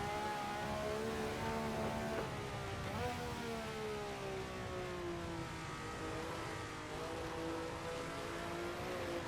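A racing car accelerates on the Nürburgring Nordschleife in a racing video game, its engine whining upward through rising and falling revs in a continuous, steady drone.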